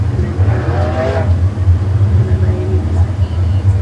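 Race car engines rumble loud and steady throughout at a dirt speedway in Nevada, Missouri, under a brief voice early on.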